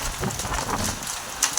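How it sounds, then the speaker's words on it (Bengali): Heavy rain mixed with falling hail pounds a rooftop during a fierce storm, a dense steady roar of drops with sharper scattered impacts and a couple of brighter hits near the end. "বৃষ্টি হচ্ছে, তার মাঝে শিলা পড়ছে প্রচণ্ড"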